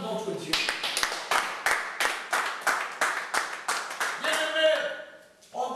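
A church congregation at a prayer vigil claps in a steady rhythm, about two claps per second, with sharp, fairly close hand claps that swell into looser applause near the end.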